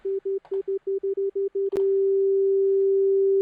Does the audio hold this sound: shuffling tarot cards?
no